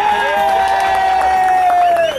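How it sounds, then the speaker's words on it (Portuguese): A crowd at Horto Florestal in São Paulo's north zone applauds and cheers, loud and sustained, with a long whistle-like tone running through the clapping and shouts. "uma salva de palmas aqui também, galera."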